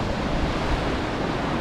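Broad, steady roar of ocean swells mixed with buffeting wind gusts at Bass Harbor Head Lighthouse, Acadia National Park, in February, continuous and close, with no voices.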